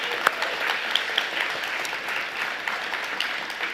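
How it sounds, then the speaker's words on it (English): Sustained audience applause for a college chancellor at a Seattle Colleges Martin Luther King Jr. community celebration, a dense steady patter of many hands with a few sharper claps popping out, alone without talk. "Let's give our chancellor a round of applause."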